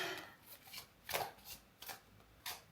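Tarot cards shuffled and drawn by hand, a run of soft papery riffles and slaps followed by several distinct card snaps at irregular intervals, close and fairly quiet with no talking.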